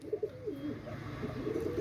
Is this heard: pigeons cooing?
yes